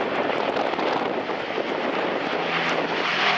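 An Avro Lancaster bomber passes with its undercarriage lowered, a dense, loud, continuous roar of piston engines and rushing air filling the whole moment, steady and without speech.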